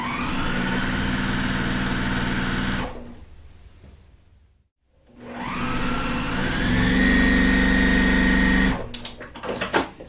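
A sewing machine chain-pieces fabric for a quilt block, its motor humming steadily up close, stopping briefly mid-way, then running again before a few clicks and rattles of handling at the end.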